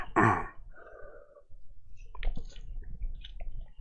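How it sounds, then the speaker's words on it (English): One short, sharp cough up close, followed by quiet throat sounds and small mouth noises. "Try not to cough too much here."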